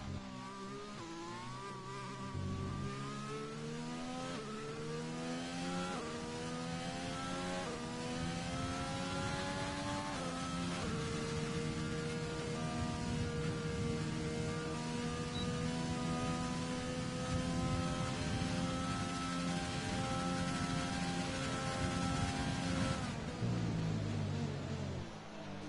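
Onboard engine note of a race car in a sim racing game at the Chinese circuit, a steady high-pitched whine that climbs through the gears with brief shift drops, loud and close throughout.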